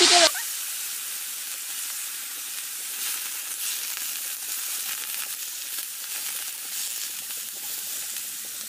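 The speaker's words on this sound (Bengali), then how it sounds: "এগুলো আমি দিব ভেজে নেওয়ার জন্য।" Drumstick stems and potatoes are dropped into a hot pan and set off a loud, steady sizzle. A brief louder burst at the start settles into a continuous close hiss with no talking.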